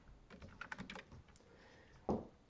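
Quick, light key taps from a computer keyboard as CSS code is typed, a short irregular burst of clicks heard close but quiet. A duller thump comes near the end, and no one speaks.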